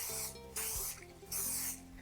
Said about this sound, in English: Go ahead and spray that with cooking spray.